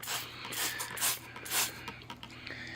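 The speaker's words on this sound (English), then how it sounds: "I've got 2 spray bottles, one with soap and water, so I'll soak it down with soap and water first." A spray bottle of soapy water mists the trunk and branches of a Serissa bonsai with several soft hissing spritzes close by, over a low steady background hum.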